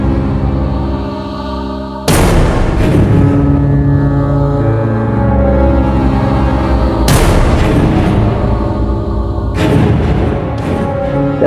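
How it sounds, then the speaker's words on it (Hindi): Three sharp, booming gunshots spaced several seconds apart, ringing out over a loud, constant rumbling background. "कहने का आसपास गोली चली है"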